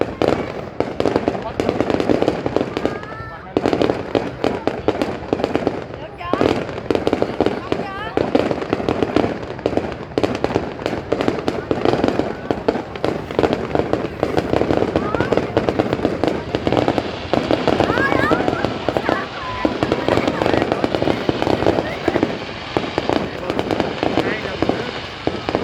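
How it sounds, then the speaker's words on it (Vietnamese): Fireworks bursting at a city display in Long Khanh, Vietnam in 2023, a dense continuous barrage of crackling pops and booms, loud and sustained, with people talking over it. "Người ta mua pháo bông bắn bông chi."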